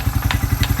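A steady, rapid thump from the engine of a Suzuki Quad Runner 250 quad bike running in second gear, with a regular pulsing beat and occasional clicks and clatter over it, heard up close.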